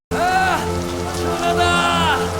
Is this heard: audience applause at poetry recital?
no